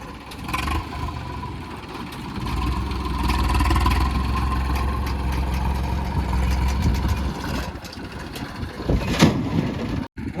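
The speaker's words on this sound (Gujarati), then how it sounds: "પાંત્રી એચપીના ટ્રેક્ટરમાં આટલો બધો ભાઈ અવાજ ક્યાંથી આવે" A 35 HP tractor loader fitted with a free-flow silencer runs close by, its engine a loud, steady, deep rumble that holds throughout with slight swells in level.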